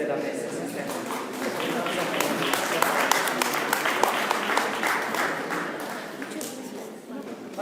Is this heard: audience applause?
yes